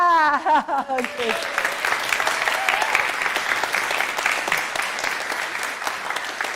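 Live applause from a horn-playing gathering in Brisbane, Australia, a dense steady patter of many hands that follows a brief held note at the start and carries on evenly to the end.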